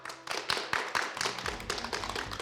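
An audience applauds at a televised Russian talk show, a brief burst of dense, fairly faint clapping at moderate distance.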